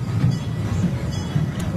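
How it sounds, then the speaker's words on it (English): Wild Kingdom Train amusement park ride at Lagoon rolling on its rails, a steady low rumble and rattle of the cars, close and continuous, with no talking. "And so we got on the train."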